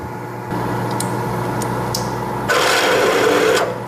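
A freshly sharpened 11/32 bit drills a hole in metal, a steady motor drone with a grinding, rasping cut that swells louder in the last second and a half.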